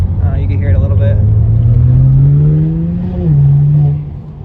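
A BMW 335is with an N54 engine and a new exhaust revs loudly nearby. The deep rumble climbs in pitch in one long sweep, then drops and settles back to a steady idle.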